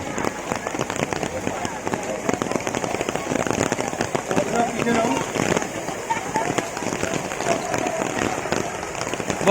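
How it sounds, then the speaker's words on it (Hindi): Heavy rain pours down on an outdoor reunion gathering, making a dense, loud, continuous patter and crackle while people talk and call out over it. "बहुत तेज बारिश के कारण थोड़ी देर के लिए प्रोग्राम रुक गया है"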